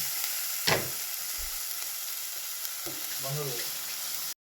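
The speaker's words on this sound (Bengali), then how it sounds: "পেঁয়াজ আদা রসুন ভাজা হয়ে গেছে" Onion, ginger and garlic paste with green chilli frying in a pan over lowered heat, a steady close sizzle with a couple of stirring scrapes, about four seconds, then it cuts off.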